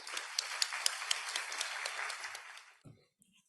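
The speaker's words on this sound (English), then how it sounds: "let's give him a round of applause" An audience at a lecture applauds steadily with dense clapping for nearly three seconds, then the clapping fades out and the room falls quiet.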